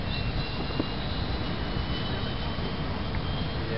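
A steady broadband whoosh of an RC model glider, an ASW28, passing overhead outdoors, heard as a continuous airy rush with no talk over it.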